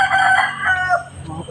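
A rooster crows once, close and loud, in a single drawn-out call filling the short moment.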